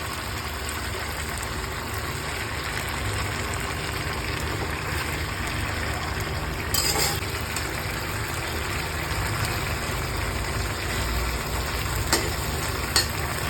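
Chital fish belly pieces fry in a spice paste, giving a steady, even sizzle throughout with a couple of brief utensil clinks, and no one speaking.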